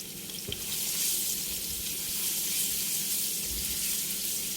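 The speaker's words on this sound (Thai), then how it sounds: "พอน้ำมันเริ่มร้อนนะคะ ก็ใส่กระเทียมนะคะ ลงไปเจียวให้เหลืองหอมเลยค่ะ" Garlic fries in hot oil for a black pepper sauce, making a steady, close, hissing sizzle that stays even and unbroken throughout.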